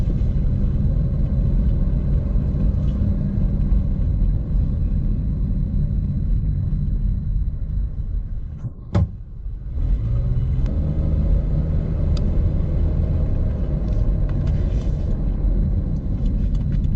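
A car on a test drive, with its oxygen sensors failing, gives a steady low rumble of engine and road noise from inside the cabin throughout, broken by one brief sharp knock partway through.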